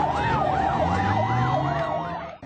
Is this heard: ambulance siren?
yes